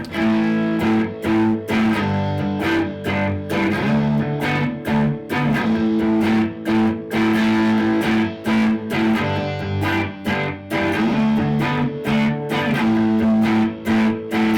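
Telecaster electric guitar played through an amp in a recording studio, bright and twangy with strummed chords and rhythmic accents, steady and loud throughout with no voices.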